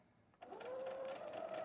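A sewing machine stitches a curved seam, starting abruptly and then running at a steady whirring hum with a rapid needle rhythm, close and fairly quiet.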